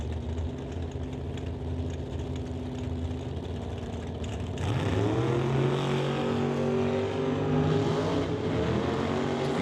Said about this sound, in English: Jacobson from Mission in the purple Chevy 2 over on the spectator side.